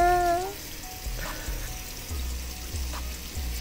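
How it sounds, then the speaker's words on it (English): Water poured over a man's face during a barbershop fainting prank, a soft splashing trickle with intermittent low thumps after a brief tonal sound at the start. "Why is he pouring water on his face like that?"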